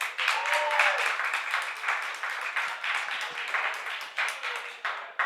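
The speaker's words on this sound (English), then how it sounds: "Not bad. Good applause." A studio audience applauds a guest on a talk show, a dense, steady wash of clapping that holds throughout and tapers slightly toward the end.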